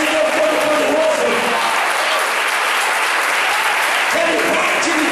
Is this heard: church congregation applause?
yes